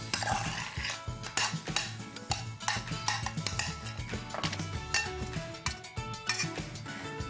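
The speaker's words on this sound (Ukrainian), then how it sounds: "І знову ж таки, швидко, швидко, швидко перемішуємо" Nuts, seeds and berries stirred quickly in caramel for homemade kozinaki: a close, busy run of scraping and light clinks from the utensil against the pan, continuous for several seconds with no voices.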